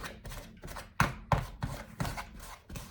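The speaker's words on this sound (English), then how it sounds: "mix with the pastry blender here, the butter up into the flour until there's no big chunks of it" A pastry blender cuts butter into flour for buttermilk biscuits, making a steady run of about nine soft, rhythmic chopping thuds close by, with no talk.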